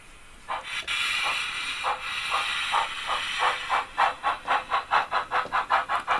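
A model railway locomotive, a replacement Jinty tank engine, runs with a steady hiss that breaks into rapid, rhythmic chuffing pulses, uneven at first and then regular, close and fairly loud with no talking.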